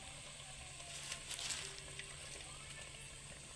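Gongura leaves frying in oil in a clay pan with green chillies, a steady soft sizzle with faint crackles and a low hum underneath, no talking.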